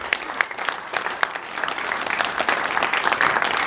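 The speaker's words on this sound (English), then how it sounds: "give a cheer to all the mothers" A live show audience breaks into steady, dense applause with scattered cheers, a loud and continuous clapping wash filling the room without speech.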